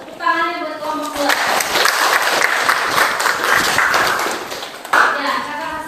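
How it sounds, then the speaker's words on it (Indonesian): Children in a classroom clap in applause for a student group, a steady burst of dense clapping lasting several seconds after a brief spoken prompt, with some kids' voices mixed in. "Tepuk tangannya buat kelompok 2."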